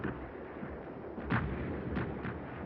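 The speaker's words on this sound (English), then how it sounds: "Russian artillery and machine guns," Russian artillery and machine gun fire during the Battle of Berlin, a muffled continuous rumble of firing with several sharper distant booms, no voice.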